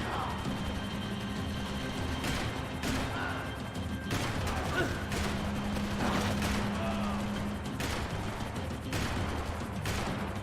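Gunshots in Max Payne 3 crack out as sharp, separate reports, several spaced irregularly over a constant background of game ambience and mechanical clatter.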